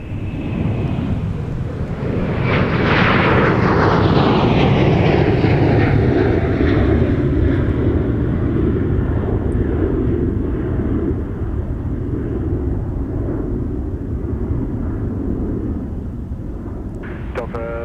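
A Delta jet airliner takes off at Minneapolis–Saint Paul airport in winter, its engine roar swelling to a loud, sustained rumble with a falling whine as it passes, while radio chatter plays over it.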